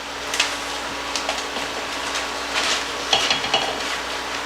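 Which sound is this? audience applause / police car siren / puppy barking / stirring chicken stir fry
stirring chicken stir fry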